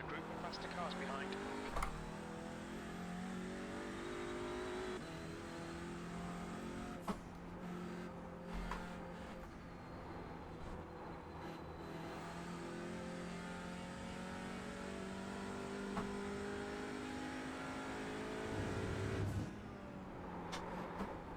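Race car engines in the sim racing game iRacing drone steadily throughout, with a constant high-pitched whine and rising and falling revs as a faster group approaches, sitting under frequent talk.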